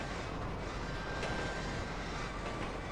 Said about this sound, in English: This train is stupid long.